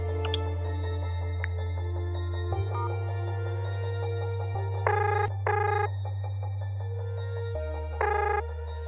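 A telephone rings in a short repeating electronic pattern of bright tones, fairly faint over a steady low background hum, with no one speaking.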